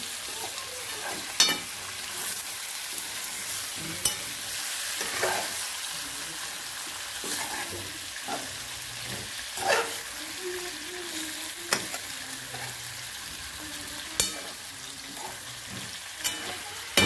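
Fish fries in a pan at home, giving a continuous loud hissing sizzle broken by intermittent scraping and clinking knocks as it is stirred, with no voices.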